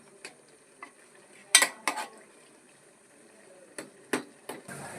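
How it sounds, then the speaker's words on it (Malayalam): A ginger-tamarind mixture (inji puli) sweetened with jaggery being stirred in a pan, heard as sparse scrapes and clinks of a spoon against metal separated by quiet gaps. "ഇതൊന്ന് നന്നായിട്ട് മിക്സായി വരട്ടെ മിക്സ് ചെയ്തെടുക്കാം"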